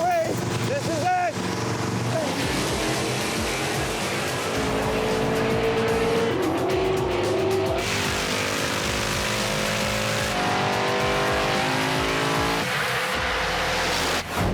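Cars drag racing, a loud, continuous engine roar with rising and shifting revving tones and a brief screech, close and dense throughout, with voices mixed in under the noise.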